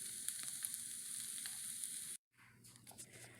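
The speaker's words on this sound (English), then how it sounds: "it's come up to a nice simmer" Salisbury steak with onions and mushrooms simmers in gravy in a stovetop frying pan, a steady close bubbling sizzle that cuts out abruptly, then resumes with softer bubbling.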